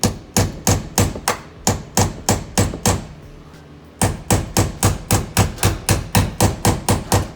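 A rivet is hammered into a ceiling panel inside a Ford Transit van. Steady rapid blows ring out close and loud, pausing briefly near the middle before the same quick rhythm resumes.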